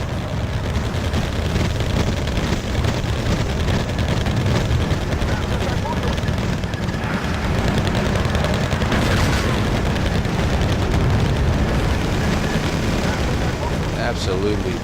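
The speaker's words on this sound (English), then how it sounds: "there was some tanks advancing, getting hit with a shitload of artillery" Distant artillery barrages pound advancing tanks in the war strategy game Wargame: Airland Battle, a dense continuous rumble of booms and crackling blasts that lasts throughout the clip.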